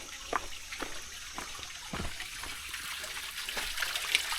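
Fresh water trickling and dribbling at a village water point where people fetch water and wash clothes, a faint, steady flow with scattered small splashes close by.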